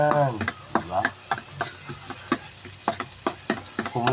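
Onion and garlic frying in oil are stirred with a utensil, each scrape clacking against the pan in an uneven rhythm over a low, steady sizzle, close up.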